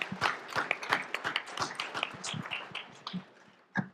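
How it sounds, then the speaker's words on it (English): Audience applause at a panel talk on the Supreme Court: a small crowd clapping close by in a dense, uneven patter that thins briefly before a last few claps. "Let's applaud this great man."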